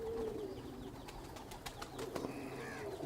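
A prized pigeon coos softly in low, repeated throaty notes close by, alone with faint background rustle.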